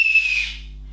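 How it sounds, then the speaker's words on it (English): A single short, shrill whistle blast for a train game opens the moment and fades within half a second, leaving a low steady hum behind it. "can they blow the whistle?"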